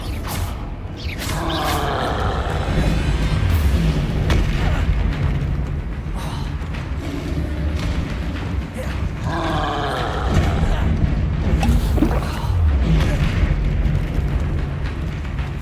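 A troll fight in Hogwarts Legacy, full of heavy booms, rumbling roars and crashing impacts that go on without a break, loud and dense throughout.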